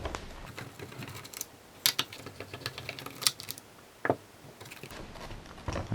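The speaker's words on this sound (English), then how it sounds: "so 2 more screws to remove the actual gauge" Screws being removed from a Subaru WRX STI gauge cluster produce irregular small clicks and ticks of metal and plastic, close and fairly quiet, with a few sharper taps spaced across the clip.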